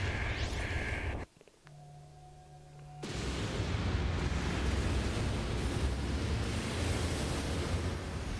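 A large explosion in a Mega Man X4 cutscene, a general blowing himself up to destroy a weapon: dense, roaring broadband rumble that cuts out briefly with a low tone, then returns as a sustained loud blast.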